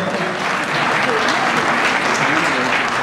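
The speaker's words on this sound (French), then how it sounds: "et on l'applaudit bien fort" Loud, full applause from a Lions Club congress audience in Honfleur cheering for a member named Jean, continuous throughout with voices mixed in.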